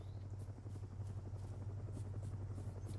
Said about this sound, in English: There's a helicopter there.